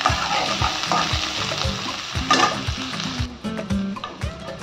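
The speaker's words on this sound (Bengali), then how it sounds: "পেঁয়াজটাকে আমি হালকা করে ভেজে নেব।" Onion fries lightly in oil in a wok with bay leaf, cinnamon and peppercorns, a steady sizzle broken by regular scraping strokes of a stirring spatula, close and clear with no voices.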